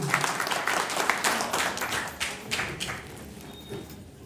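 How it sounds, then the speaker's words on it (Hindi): Listeners at a Constitution Day seminar applaud the chairman, brisk scattered clapping with distinct individual claps that thins out and fades toward the end. "सराहनीय अध्यक्ष महोदय को एक बार पुनः जोरदार तालियां चाहूंगा इनके लिए।"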